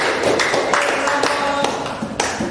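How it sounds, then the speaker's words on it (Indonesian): A classroom group claps together, a string of sharp overlapping hand claps close by with some chatter mixed in. "Tepuk tangan dulu."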